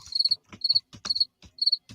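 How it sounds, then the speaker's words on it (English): Crickets chirp in close, regular trilled pulses, sounding as a crisp repeating sound effect over faint low rustling. "Oh, we get the Crickets and the Coyotes."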